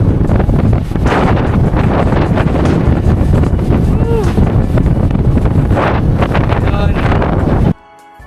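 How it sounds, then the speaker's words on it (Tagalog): Strong wind buffets the microphone in a continuous roar with gusty surges at a hilltop view deck in Dingalan, then cuts off abruptly near the end. "Lakas ng hangin."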